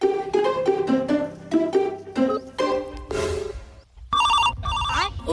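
A telephone rings in repeated bursts of bright, trilling bell tones after a number is dialled, fairly close. Brief noisy sounds and a voice break in near the end.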